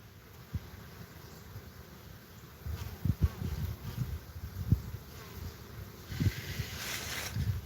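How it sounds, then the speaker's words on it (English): Bees buzzing busily around a hive while attacking a yellow jacket, a low insect drone with intermittent close buzzing passes that swell louder toward the end. "See the bee attacking the yellow jacket?"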